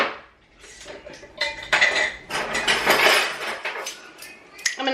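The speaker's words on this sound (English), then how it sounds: "I'm also going to add an egg." An egg goes into batter in a bowl, heard as a run of clinks and knocks against the dish, with scraping and tapping of utensils on hard kitchenware, close and fairly loud, and no talking.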